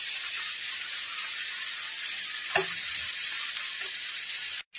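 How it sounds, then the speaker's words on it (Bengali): Bori lentil dumplings fry on a hot tawa with a dense, steady sizzle, broken by a couple of brief stirring scrapes close by, then cutting off abruptly at the very end. "এদিকে আমি একটা তাওয়ায় বড়ি ভেজে নিচ্ছি"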